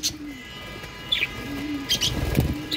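Pet budgies and parrots chirping while they eat, short bright tweets and calls close by over soft background noise and faint low sounds.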